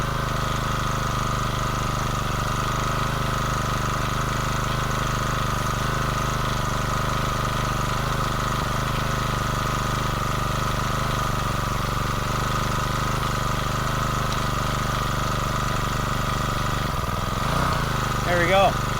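A capstan winch engine drones steadily and loudly at a constant pitch, pulling on a rope around the drum, with a brief change in tone near the end.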